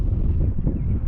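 Gusts of wind around 18 miles per hour buffet the microphone outdoors during a Heewing T1 Ranger drone flight, making a dense, low rumbling roar for about a second.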